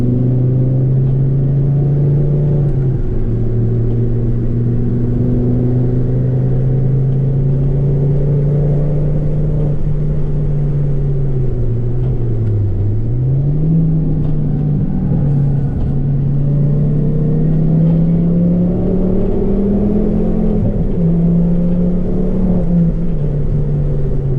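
A Ford Focus ST Mk2 engine drones steadily from inside the car on a race track, a loud continuous rumble whose pitch rises and dips gently with throttle, no voices.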